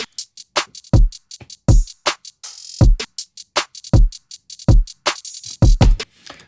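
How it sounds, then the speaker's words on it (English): Basic trap beat loop played back in Logic Pro, punchy booming kicks with tight snares and rapid hi-hat rolls in a steady, loud, driving pattern with no talking. "It's just a basic beat, a trap beat that I've imported."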